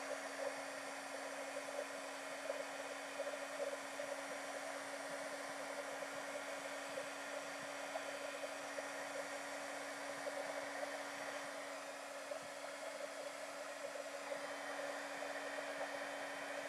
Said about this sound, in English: And then I'm just going to heat set that.